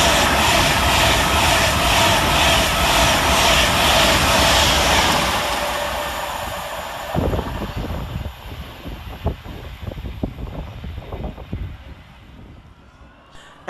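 A loud, broad roar of a passing Avanti West Coast class 390 electric passenger train at Goostrey station that fades gradually, followed by rattling and clunking as the carriages pass and move away.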